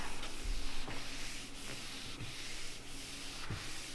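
An applicator sponge spreads a ceramic coating product over a car's paintwork, making a quiet, steady rubbing swish with faint rhythmic strokes.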